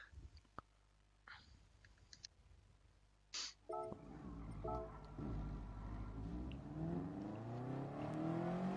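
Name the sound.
race car engines in a racing video game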